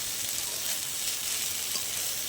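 Kulfi sag greens fry slowly in a pan with a little oil, giving a steady, close hiss of sizzling that holds evenly throughout without any voices.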